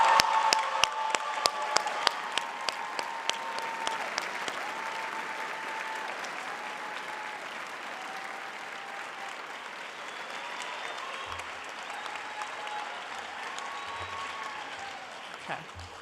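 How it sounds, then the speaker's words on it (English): Sustained applause from a large audience at a university sociology commencement ceremony, with dense steady clapping that swells loudly at the start and then holds at an even level throughout. "join me in the biggest round of applause of all for all of your parents and family"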